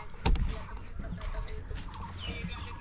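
Chickens on a small Nepali farm cluck in short, scattered calls at close range, mixed with faint rustling and background chatter.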